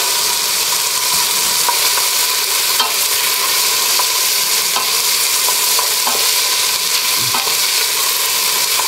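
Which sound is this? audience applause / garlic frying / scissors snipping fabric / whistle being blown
garlic frying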